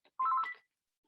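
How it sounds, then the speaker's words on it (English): A mobile phone sounds a short electronic beep tone, a single clear burst lasting under half a second in an otherwise quiet room. "I'm going to turn off my phone right now so you don't have to listen to that."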